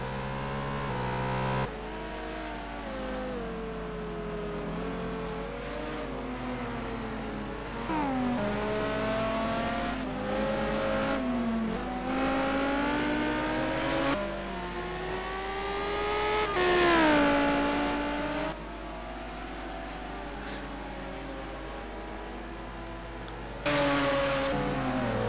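An Aston Martin Vantage V12 races in the simGT sim-racing game, its big engine howling at full throttle with repeated rising and falling revs through gear changes, loud and continuous for the whole stretch.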